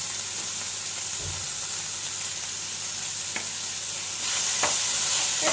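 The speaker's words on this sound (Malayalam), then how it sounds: "നന്നായിട്ട് ഇതുപോലെ ഒന്ന് ഇളക്കി കൊടുക്കാം" Chopped tomatoes with salt fry in a pan for paneer mutter masala, a constant close sizzle with a few light clicks of a stirring spoon, the hiss swelling louder near the end.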